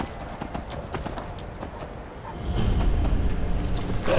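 Horse hooves clip-clop in Skyrim Anniversary Edition, a quick, steady rhythm of hoofbeats that stays close and fairly loud, with the game's ambience swelling louder in the second half.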